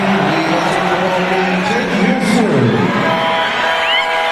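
A basketball arena crowd at a Gilas Pilipinas versus Chinese Taipei game roars and shouts as Dwight checks in, a loud, sustained wall of cheering and whoops with voices rising over the din.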